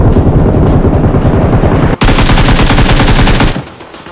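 Gunfire in a mobile shooter game: rapid automatic bursts fired close and loud, a brief gap midway, then a second sustained burst that ends and fades into quieter room noise.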